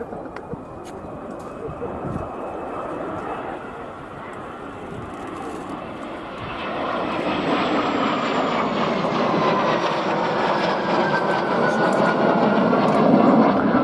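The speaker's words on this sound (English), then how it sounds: "that's the aircraft that's leading the formation about to run in from our left" A formation of Morane-Saulnier MS-760 Paris jets runs in at an air show, a distant engine roar that swells steadily louder over the span, with a commentator talking over it.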